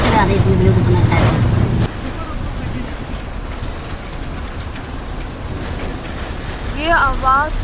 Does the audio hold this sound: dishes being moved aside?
no